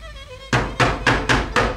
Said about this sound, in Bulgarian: Някой чука.